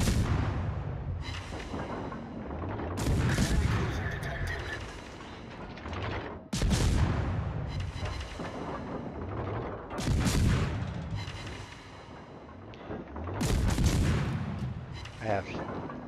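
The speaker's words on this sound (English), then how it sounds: "shoot some HE at him, see if I can light a permafire or two on him" Warship guns in a naval video game fire high-explosive shells, heavy booming salvos arriving in several loud bursts a few seconds apart, each rolling off into a rumbling decay.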